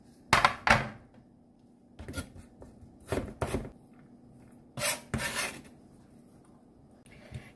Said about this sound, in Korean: 양파를 다 다져서 넣어줄 거예요.